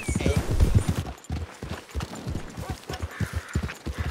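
Horse hooves clip-clop in a quick steady rhythm and a whinny sounds early on, all in the Western video game Red Dead Redemption 2. The hoofbeats are close and clear, and a voice speaks briefly over them.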